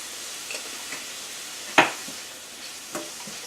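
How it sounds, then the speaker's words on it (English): Mushrooms, tofu and onions saute in a pan with a steady, soft sizzle and no talk. One sharp scrape or clack cuts in near the middle and a fainter one comes toward the end. "We have been sauteing the mushrooms and the tofu and the onions"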